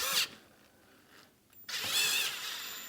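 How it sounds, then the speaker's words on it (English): Power drill with a 7/8 bit run up against a motorcycle frame, two bursts of high whirring, a short one at the start and a longer steady one in the second half, close and fairly loud. "I'm gonna get a drill"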